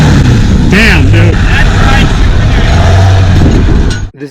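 A loud, steady Jeep Rubicon engine rumble with a deep exhaust drone throughout, voices talking over it, fading out abruptly near the end.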